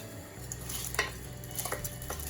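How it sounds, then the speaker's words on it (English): Washed rice is poured into a pot of boiling salted water, giving a soft rushing patter and faint clinks of the pot over a steady bubbling boil, close and fairly quiet. "I'm placing it in the 2 liters of boiling water and salt."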